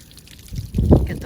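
Water gushes and trickles from the drain of a camper's water heater once the plug is pulled, a short close splash that swells louder toward the end.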